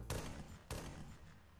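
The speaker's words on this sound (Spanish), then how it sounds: "Han sido disparos, ¿eh?" Two gunshots in the Professor Layton video game, sharp broadband bangs about half a second apart, each followed by a brief decaying tail over low ambient game sound.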